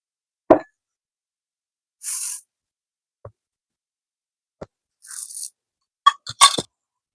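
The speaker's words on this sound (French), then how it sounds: "Je mélange tous les ingrédients solides ensemble." Chopped seeds and dry ingredients being mixed together in a bowl for flourless, sugar-free high-fibre biscuits: sparse close clicks, soft plops and brief gritty rustles separated by silent pauses, no voices.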